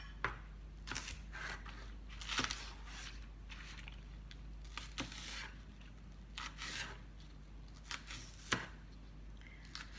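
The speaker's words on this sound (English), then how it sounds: "Just slicing the bulb of the green onion." A knife slices through the bulb of a green onion in short, quiet rasping strokes with soft board taps, irregular and close, with no talking.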